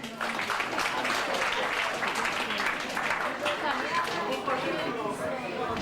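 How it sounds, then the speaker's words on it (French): Audience at a Christmas evening gathering of special-education students clapping at moderate distance, a fairly quiet patter of applause mixed with crowd chatter and some background voices. "on applaudit."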